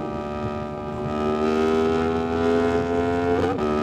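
A Kawasaki Z900 SE or Yamaha MT-10 SP motorcycle engine is heard as a steady, tonal drone that swells as the throttle opens, then wavers briefly near the end, with no voices over it.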